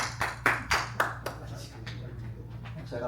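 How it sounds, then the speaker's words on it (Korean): A small gathering at a Korean community meeting in Los Angeles gives a brief round of encouraging applause. A few distinct, close claps come first, then thin out over a low steady hum. "격려의 박수 한번 같이 한번 보내주세요"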